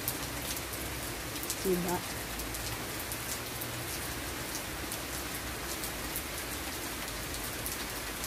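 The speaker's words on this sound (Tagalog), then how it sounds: "Ibig sabihin malakas talaga ang ulan" Heavy rain pouring steadily on an outdoor surface with plants during bad weather in Milan, a dense continuous hiss of drops; a voice speaks briefly near the start.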